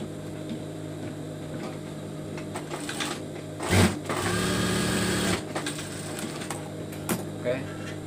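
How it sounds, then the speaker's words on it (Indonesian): Sewing machine stitching fabric for a hijab face mask, a close mechanical whir that runs in short bursts with a longer sustained run in the middle, while someone talks alongside. "kita tinggal jahit aja di sebelah sini dan di sebelah sini"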